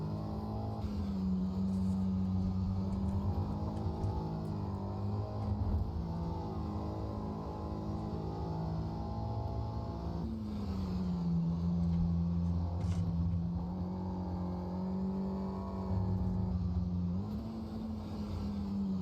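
A race car engine in the sim racing game AMS2 drones steadily and loudly, its pitch climbing and dropping as the throttle is worked, with brief shifts and no break in the sound.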